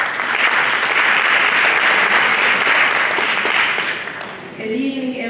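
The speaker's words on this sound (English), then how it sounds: "Please, round of applause." An audience at an African Immigrant Heritage Month celebration applauds with loud, dense, steady clapping for several seconds, then fades as a voice begins speaking.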